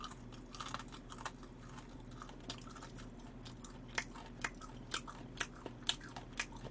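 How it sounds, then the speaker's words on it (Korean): Crisp, crunchy chewing and biting on fried chicken during a Korean eating broadcast, with sharp crunch bursts clustering toward the end over a low steady background hum. "이렇게 씹어서 바삭하게."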